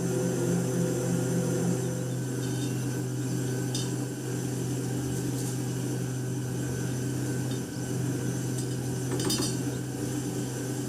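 An electric mixer whirs steadily as it beats egg whites with sugar added gradually, a constant motor drone with faint scraping clinks of the beaters against the bowl, running throughout without talk.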